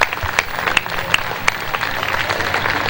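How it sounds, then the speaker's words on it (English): Audience applause following a radio host's call for a round of applause, dense steady clapping from a crowd with a few sharper claps standing out, continuous for the whole stretch. "I want to hear a nice round of applause for your friend and mine, Daryl Sagina."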